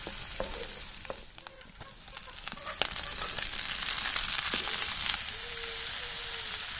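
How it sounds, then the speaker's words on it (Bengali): Leafy greens fry with bean seeds in a pan, a faint, steady sizzle broken by scattered crackles and stirring scrapes. "সিংডিমেস দিয়ে শাক ভাজি"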